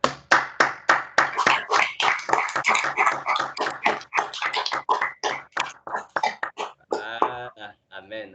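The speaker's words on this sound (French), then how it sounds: "Applaudissons pour nous." A church congregation claps in a brisk, uneven rhythm of sharp close hand claps, thinning toward the end as a voice speaks over the last few claps.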